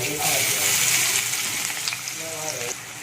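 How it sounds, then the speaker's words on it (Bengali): Chopped onions sizzle loudly in hot oil seasoned with asafoetida, a close, steady frying hiss with occasional stirring scrapes, while someone talks over it. "এবার আমি পেঁয়াজ কুচিগুলো এর মধ্যে দিয়ে দেবো।"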